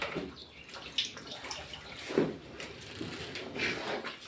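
Water poured into a pot while cooking patra leaves at home, a soft uneven splashing stream with a few louder gushes, fairly quiet and close, no talk over it.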